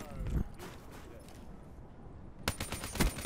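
Bursts of video game gunfire crackle in rapid automatic volleys, one short flurry at the start and a heavier burst near the end, with quieter action between.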